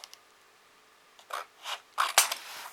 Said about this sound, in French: Je découpe des coins